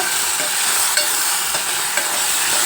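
Minced meat keema curry frying in a pan while being stirred, a steady loud sizzle with occasional scraping stir clicks, close and alone without talk.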